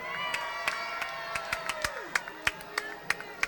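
A parade crowd cheers and shouts for the Heschel School at the Celebrate Israel Day Parade, a steady roar broken by sharp claps and whistles, with a falling whistle tone sweeping down midway.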